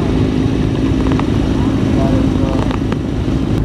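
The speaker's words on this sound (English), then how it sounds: "Oh, you gonna do a wheelie?" A motorcycle engine revs steadily through a wheelie in street traffic, loud and close with a continuous droning roar.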